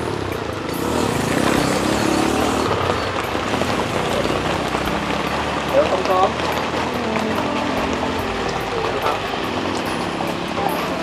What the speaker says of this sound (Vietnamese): Bây giờ mưa lớn lắm đó cô chú anh chị ơi.